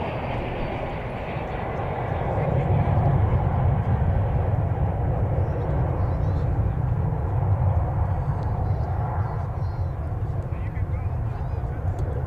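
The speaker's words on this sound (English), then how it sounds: "Got American Flight 1691 coming in from Phoenix on this side of the airfield" An American Airlines airliner arriving from Phoenix at DFW Airport gives a steady, loud low engine roar that swells slightly and holds for the whole stretch, with no talking over it.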